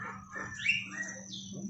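White-rumped shama songbirds call in short, faint chirps and whistled notes at middle distance, over a low steady hum.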